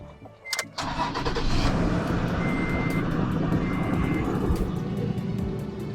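A Toyota Tacoma pickup with a completely dead battery, started from a jump box: a brief cranking burst, then the engine catches and settles into a steady, close idle with a faint warning chime.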